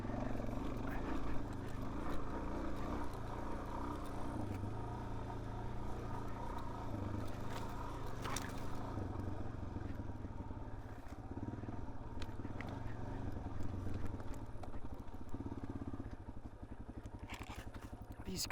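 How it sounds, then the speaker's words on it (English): Suzuki DRZ 400S dual-sport bike ridden along a wooded trail with tight zigzagging switchbacks around trees, its engine droning steadily close by with clattering and crackling underneath. "These kind of trails on this big heavy bike are not fun, going zigzagging and switchbacking around trees."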